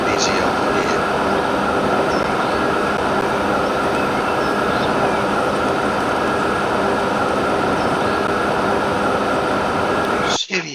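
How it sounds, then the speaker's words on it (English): Trains roll along tracks in the rail-building game Transport Fever 2 at a busy station area, a steady continuous rumble and hum lasting throughout, ending in a brief click. "cargo trains are moving on my passenger track"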